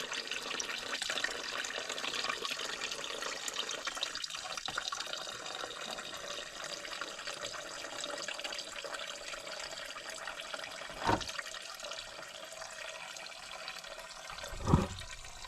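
Coolant pours out of a Jeep YJ radiator in a steady watery splash and trickle that runs throughout, close by, with two brief louder gushes near the end and no talking.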